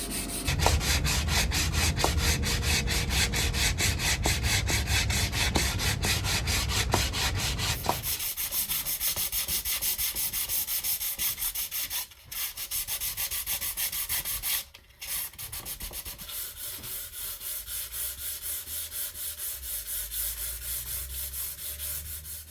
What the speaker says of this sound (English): Then came the cleaning up and the sanding.